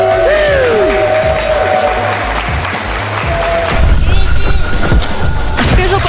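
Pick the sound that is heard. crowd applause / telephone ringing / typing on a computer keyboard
crowd applause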